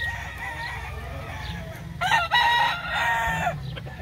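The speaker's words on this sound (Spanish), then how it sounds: "Qué belleza de gallo, Dios lo bendiga." A rooster crows loudly and close by at a cockfighting breeders' yard, a harmonic call lasting over a second, with low farm rumble and background noise throughout.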